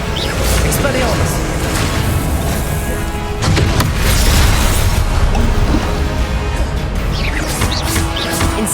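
Spellcasting and combat in Hogwarts Legacy on Xbox Series X as a disarming Expelliarmus spell is fired off. Loud magical whooshes, booms and crashes pile up continuously, with a strong burst in the middle and a spoken incantation over the effects.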